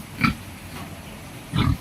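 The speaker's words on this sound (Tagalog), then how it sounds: "Ito na nga pala guys yung mga baboy na alaga dito sa farm na to." Pigs kept as fatteners on a pig farm give two short grunting oinks, one near the start and one near the end, with quiet pen ambience between.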